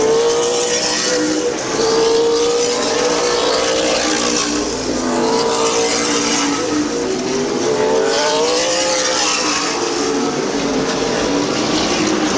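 Race cars roaring around a speedway oval during a feature race, several engines blending into a loud, continuous drone with rising and falling pitch as cars sweep past, no voices over it.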